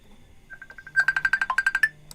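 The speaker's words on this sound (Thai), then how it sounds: "เสียง Messenger โทรศัพท์" A Facebook Messenger call ringtone sounds from a phone, a quick run of bright, evenly spaced electronic chimes that climbs in loudness over about two seconds, heard clearly on its own.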